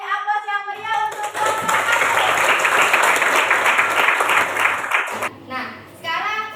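A classroom audience of students breaks into loud, lively applause lasting several seconds, with a teacher's voice and children's chatter before and after it.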